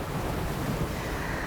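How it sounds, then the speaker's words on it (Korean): Sea waves wash continuously below Haegwangsa, a seaside temple in Gijang with a sea-facing dharma hall, heard as a dense, even rush of surf mixed with wind buffeting the microphone. "여러분 바닷소리 들리시나요?"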